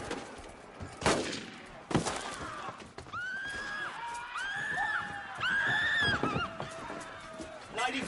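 Several sharp gunshots ring out in a period audio drama, followed by a horse's shrill whinnies and a commotion of shouting voices, with the cracks close and loud among the cries.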